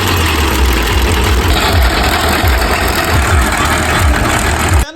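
A tractor engine runs steadily nearby with a deep, rhythmic chugging rumble, cutting off abruptly at the end, while digging a trench for a water line.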